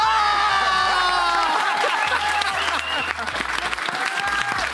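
Applause and cheering from a television studio audience on a French talk show, a steady dense clapping that fills the whole stretch with whoops and scattered voices mixed in.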